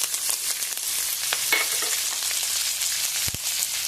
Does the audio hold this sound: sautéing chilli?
yes